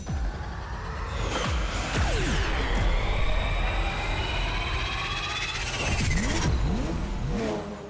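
A cartoon super speed car arrives with a loud whooshing engine rush, rising and falling pitch sweeps and zooming passes layered over a busy, sustained motor roar across the whole stretch.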